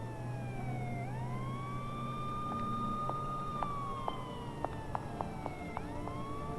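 Emergency vehicle sirens wail outside, rising and falling in long sweeping tones at a moderate distance, with faint traffic rumble and a few soft knocks beneath, and no talking.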